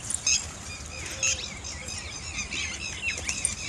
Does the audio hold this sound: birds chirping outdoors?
yes